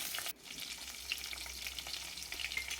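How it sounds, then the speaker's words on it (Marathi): Crushed garlic, ginger and curry leaves fry in hot oil with mustard seeds in a kadhai, giving a steady, close hiss and crackle that follows a brief drop near the start. "जाडसर कुटलेलं लसूण अद्रक कुटलेलं कढीपत्ता टाकून घेते"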